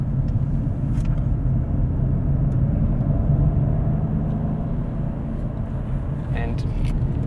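A BMW M850 rental car on winter tires drives hard with a steady, loud low rumble of engine and road noise, the cabin drone continuous.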